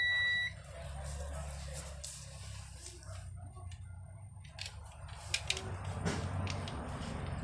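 A multimeter on its short-circuit continuity setting gives a brief high beep right at the start, followed by low handling noise and faint rustling.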